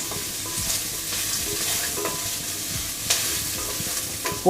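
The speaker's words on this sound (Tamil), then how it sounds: "தேங்காய் துருவல் சேர்த்துட்டு ஒரு 30 செகண்ட் வரைக்கும் ஃப்ரை பண்ணாலே போதும்" Grated coconut sizzles and crackles steadily in a hot pan, with occasional scraping stirs and no talking.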